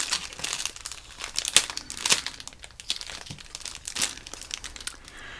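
A Suruga-Ya sticker is peeled off a Hello Kitty donut squishy, giving close, continuous crinkly crackling and tearing sounds with brief louder bursts and no talk.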